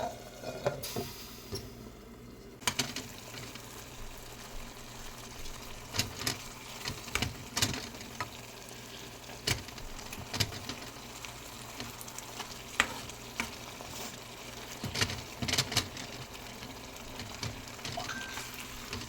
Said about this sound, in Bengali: হালকা ভাজবো আর তারপরে ঢাকা দিয়ে রেখে দেব যতক্ষণ না টমেটোর জলগুলো বেরিয়ে যায়।